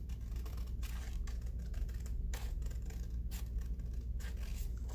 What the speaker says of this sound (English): So you would think that I could cut a straight line